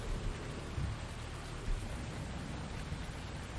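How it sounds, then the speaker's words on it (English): Rain drums on the cab of a machine in Farming Simulator 2019, a soft, even, muffled patter with low rumbling beneath, steady and unbroken for a few seconds. "I love the sound of the rain hitting the cab when you're in your machine"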